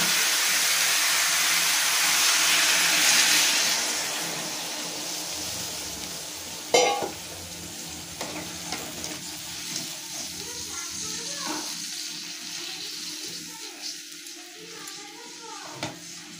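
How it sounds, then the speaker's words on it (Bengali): Water poured into sizzling spiced cauliflower and potato curry, a loud hissing surge of steam that fades, then a sharp splash and quieter bubbling with occasional stirring knocks. "এবার আমি দিয়ে দেবো পরিমাণ মতো জল।"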